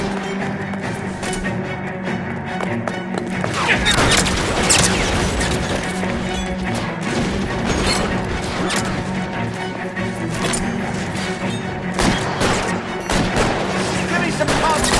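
Dense gunfire from the video game L.A. Noire, an arson case set at Nicholson Electroplating: repeated cracking shots and crashes in a steady fusillade, with in-game voices talking over the shooting.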